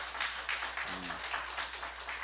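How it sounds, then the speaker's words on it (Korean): A church congregation at a Sunday service applauds in praise to God, a steady wash of clapping that is soft and somewhat distant, with a brief voice in the middle. "하나님께 영광의 박수 올리겠습니다"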